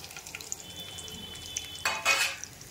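Buttermilk chillies drop into hot oil with a sudden burst of sizzling and crackling frying that swells briefly and fades, with faint stirring clinks around it.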